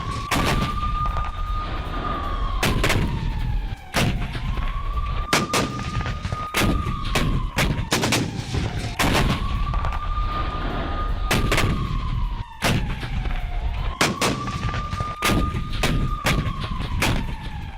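A US warship fires on a Houthi boat in the Red Sea, with loud, sharp blasts repeating in rapid bursts alongside a recurring rising and falling wail, close and dominant with no talking.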